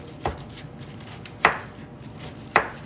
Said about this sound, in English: I'm just dicing it up